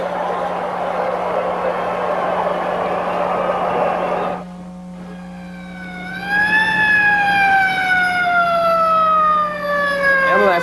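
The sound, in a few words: ambulance siren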